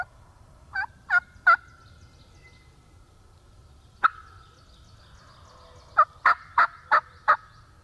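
Wild turkeys, including a jake gobbler, gobble in bursts, a few calls early then a rapid cluster of gobbles later, moderately distant over quiet outdoor background.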